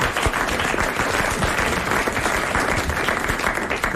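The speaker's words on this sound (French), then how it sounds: "que nous allons applaudir" A television studio audience breaks into lively applause for a woman in the crowd, dense continuous clapping close and loud throughout.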